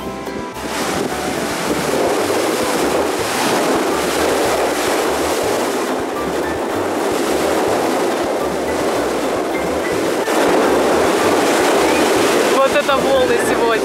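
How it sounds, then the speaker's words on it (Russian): Ocean surf crashes and rushes continuously with heavy wind noise, a loud, steady wash of waves close by. "Волны сегодня."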